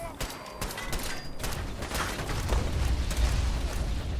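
Sustained gunfire aimed at the player in the game Fallout 4, a dense, busy barrage of overlapping shots and impacts that stays loud throughout.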